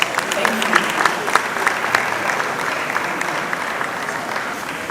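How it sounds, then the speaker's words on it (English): Applause from the audience at a Lagos fashion runway show, a loud, dense crowd clapping that starts strong and gradually thins and softens, with a murmur of voices underneath. "A round of applause."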